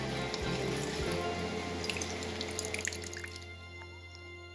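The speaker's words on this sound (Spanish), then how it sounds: "Ahora vamos a colar sin echarle nada de agua." Natural juice from grated carrots is strained without added water and pours and trickles steadily close by, then thins to light drips.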